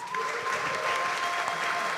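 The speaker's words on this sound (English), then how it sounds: "let's give Laura a round of applause" At a community crowdfunding event, a brief burst of audience applause sounds for Laura, steady and moderately distant, lasting about two seconds.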